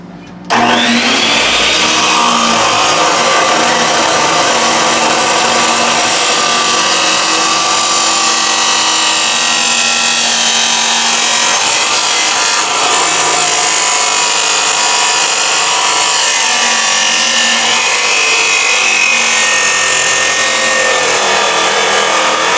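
A power saw starts abruptly and cuts through metal stock for an axle saddle jack on a Harbor Freight 8 ton bottle jack, a loud, close, continuous high-pitched grinding whine that holds steady for over twenty seconds.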